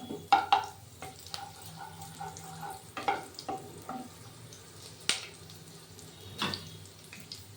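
Oil heats in a frying pan while making vegetable chops, giving a faint, low sizzle punctuated by a few sharp utensil clinks and taps, with no talk.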